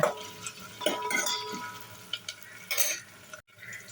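Cardamom, cloves, marathi moggu, long-sliced onions and shahjeera fry in a pan, with soft sizzling broken by close scraping stirs and a few metallic clinks, ending in a brief silence.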